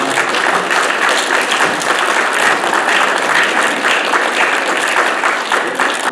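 An audience at a Korean American immigrant church symposium in New York claps in sustained, even applause that fills the room from start to end.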